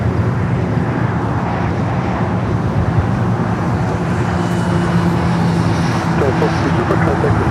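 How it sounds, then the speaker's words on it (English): A United Boeing 787-9 Dreamliner arriving from London Heathrow to land on the south side at LAX, a loud continuous jet roar with steady broadband rumble that holds throughout, close and unbroken, with faint radio talk mixed in. "We do have United Flight 935 coming up from London Heathrow, the 787-9 Dreamliner next"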